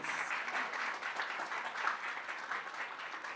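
A crowd at a water purification and sustainability initiative launch gives another round of applause, a soft, even patter of many hands heard from a distance, with no talk over it.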